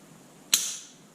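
A single sharp click comes from the trigger breaking on a striker-fired PSA Dagger pistol fitted with a Wheaton Arms trigger assembly, heard close and alone against quiet background.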